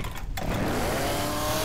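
A chainsaw from Left 4 Dead 2 revs up and then holds a steady, loud buzzing drone, with a rising whine after the start that stays sustained and close for the remaining second.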